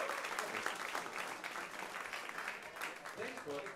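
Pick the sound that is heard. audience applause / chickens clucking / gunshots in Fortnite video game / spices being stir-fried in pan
audience applause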